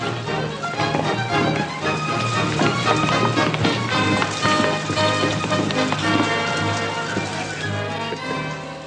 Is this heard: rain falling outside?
yes